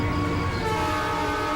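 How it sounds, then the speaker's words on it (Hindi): A passenger train comes into a station, with a loud continuous rumble and a steady tonal hum from the engine, close by and filling the short moment. "चलिए मैडम जी, ट्रेन आ गई है।"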